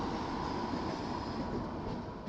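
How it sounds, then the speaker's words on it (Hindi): A Shatabdi Express train overtakes on a parallel track near Kanpur, heard from inside a moving train as a steady, loud, broadband rumble and rush of wheels and rails with no pauses or voices. "शताब्दी अपनी पैरेलली हमें ओवरटेक कर रही है"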